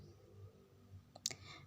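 A computer mouse clicking to confirm a step in statistics software, heard as a couple of quick, faint, close clicks near the end over a low, quiet background.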